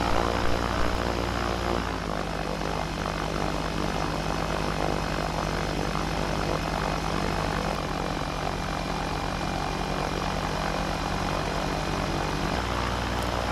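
Light aircraft, an M03 on a grass-edged runway, taxiing with a steady propeller engine drone that holds close and loud throughout, dipping and rising in pitch as power is added for a tight turn.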